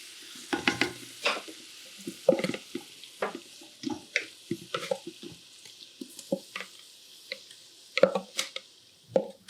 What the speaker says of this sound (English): Got my pot nice and hot, and we're gonna put all this right into that hot butter and oil.